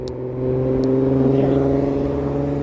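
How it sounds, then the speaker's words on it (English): Street traffic passing by close at hand, with the engine hum of a vehicle swelling as it goes past and then holding steady at a loud level. "see all the traffic?"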